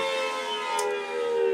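A Dundee 500SH-TT civil defense siren sounding, a sustained loud wailing tone held steadily with rich harmonics and a faint brief higher blip partway through.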